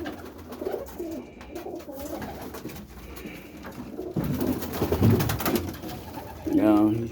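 A pigeon cooing in a coop, soft repeated coos close by, with people talking over and between the calls.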